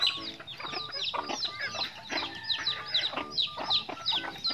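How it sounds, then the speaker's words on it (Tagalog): Native chickens cluck busily while being fed, a dense overlapping flock of close, repeated clucks and short calls with no talk. "tapos na tayo magpapakain sa mga native chicken natin guys"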